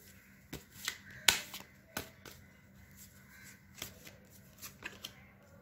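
Tarot cards being shuffled in a quiet room: scattered crisp riffles, flicks and soft slaps come up close in uneven bursts, with no talking.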